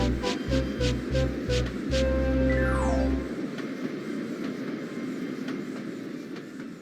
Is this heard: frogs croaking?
no